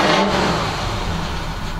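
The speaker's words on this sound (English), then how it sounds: "I'm going to rev it without letting it warm up" A cold Land Rover engine, not yet warmed up, is revved in one short, sustained burst: a loud, close roar that eases off slightly toward the end.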